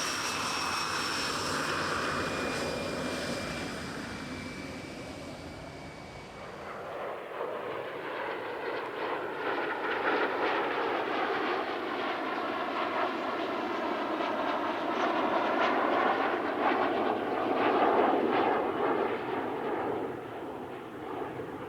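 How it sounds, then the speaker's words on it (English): A replica Me-262, an L-39 standing in for a MiG-15 and a CL-13B Sabre Mark 6 playing an F-86 pass overhead in a three-ship formation at a military warbird airshow, a loud, sustained jet roar that swells and surges as they fly by. "this 3-ship performance by a replica ME-262, a LIN-2 representing the MiG-15, and a CL-13B Sabre Mark 6 representing the F-86"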